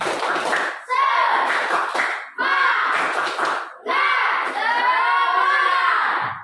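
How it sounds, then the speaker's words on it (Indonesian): An elementary classroom of students claps a rhythmic spirit clap together, loud bursts in four groups with short pauses between, mixed with children's chanting voices. "Coba tepuk semangat."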